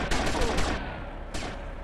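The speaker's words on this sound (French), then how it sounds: "Ah non, il y en a encore, je me fais tirer dessus." Gunfire in GTA Vice City Definitive Edition on PS5, a loud burst of rapid shots in the first second followed by a second burst, dense and close.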